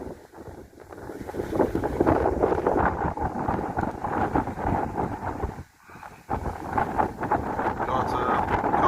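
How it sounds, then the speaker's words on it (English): Wind blows through trees on a beach at a Montego Bay resort. A continuous rushing roar with rough microphone buffeting gusts throughout, briefly dropping for a moment before surging back. "you can see the trees blowing in the wind here"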